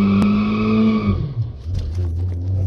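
A Volkswagen Jetta TSI accelerates hard from a launch, its engine droning loudly and steadily before the note breaks into a rougher, uneven sound as the tyres spin, then picks back up.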